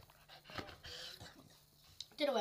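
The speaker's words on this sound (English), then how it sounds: "My dog's here." A dog pants close by indoors, with rapid breathy huffs that grow louder and faster at the end, mixed with soft shuffling and faint whimper-like sounds.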